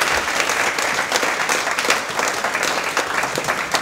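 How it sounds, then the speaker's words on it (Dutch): An audience applauds for author Marente de Moor at a literary late-night show, a steady dense burst of clapping from a full room. "Dan vraag ik nu een applaus voor Marente de Moor."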